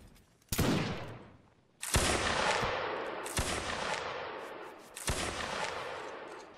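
Musket volleys in the video game Mount and Blade: Napoleonic Wars, four loud ragged bursts of massed gunfire spaced roughly a second and a half apart, each trailing off into a rolling echo.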